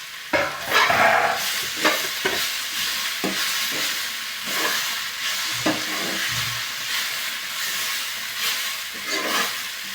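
Vegetable curry of broad bean pods and brinjal with ground peanut being stirred in an iron wok, a steady hiss of frying with repeated scraping strokes of the spoon, close and alone.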